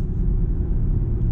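A lowered Jeep SRT8 on oversized tires rolls down a street, giving a steady, close, low road-and-engine rumble that stays even across the short stretch.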